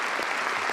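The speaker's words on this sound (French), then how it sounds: "et qui méritent nos applaudissements" Applause in the French National Assembly, a brief dense burst of many hands clapping, loud and steady throughout.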